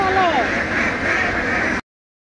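Ducks from a floating duck farm quack loudly and continuously against a steady outdoor background, then the sound cuts off abruptly.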